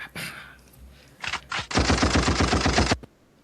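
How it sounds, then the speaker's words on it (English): A gunfire sound effect plays: a few scattered sharp shots, then a rapid burst of automatic fire lasting over a second before cutting off, loud and isolated. "gunshots."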